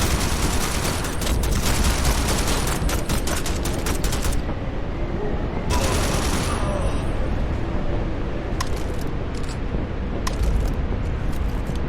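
Hostile NPC gunfire in the video game Strike Force 3 crackles in dense, loud bursts of rapid shots, with brief lulls and sharp single cracks in a dusty combat area.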